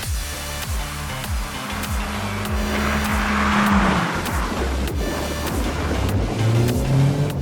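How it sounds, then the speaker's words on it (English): A Renault Sport Megane drives past on the Rockingham race track. Its engine note climbs as it approaches, then drops away as it passes. The car is loud and fairly close, with a steady, buzzing exhaust tone under higher road roar. "Oh, a Renault Sport Megane."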